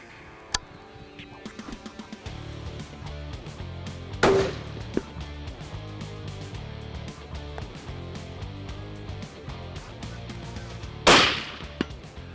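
Two loud, sharp rifle reports from a McWhorter 6.5 PRC at a shooting range, spaced several seconds apart, with faint clicks and handling noises between them.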